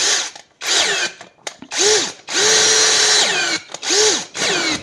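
A power drill whines in repeated bursts, the motor revving up and winding down between short pauses, loud and close.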